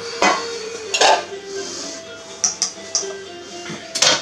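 A cake mould is picked up and handled in a home kitchen, giving a few close, bright clinks and clatters of hard cookware spaced over a few seconds.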